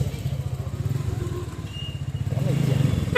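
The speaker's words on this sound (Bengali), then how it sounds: "এই বাইক নিচে পাওয়ার একটা সাউন্ড মাথা নষ্ট" A motorcycle engine chugs steadily while creeping through heavy city traffic jam, its pulsing rumble close and continuous, rising slightly toward the end.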